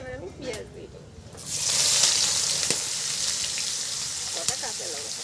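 Onions hit hot oil already tempered with bay leaves and cumin, bursting into a loud, steady sizzle that continues throughout after a quieter start, with a few faint clinks.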